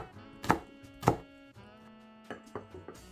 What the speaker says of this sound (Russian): Но для того, чтобы трава вышла из горлышка, нам нужно ее мелко нарезать.